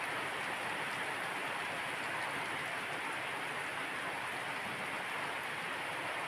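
Heavy rain pouring steadily at Bukit Batu Jomba, a dense, even hiss of downpour with no pauses and no voices.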